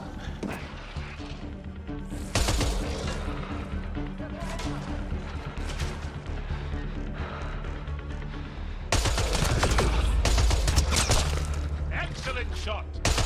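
Gunfire in the video game Mass Effect Andromeda, rapid bursts of automatic shots and impacts over a dense mix of game effects and voices, growing louder and heavier in the second half.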